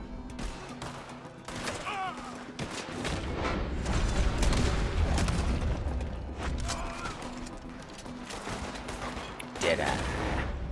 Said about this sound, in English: I like that shotgun because you don't have to be too accurate at all. You can just shoot that out and bam.